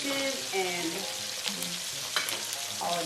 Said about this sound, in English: you never want to crowd the pan when you're frying